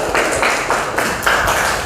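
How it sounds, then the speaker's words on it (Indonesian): A lecture audience at a Western musical instruments class claps their hands together, a steady wash of overlapping claps with a few louder swells, filling the room at moderate volume. "Tepuk tangan untuk kita semua dulu, tepuk tangan"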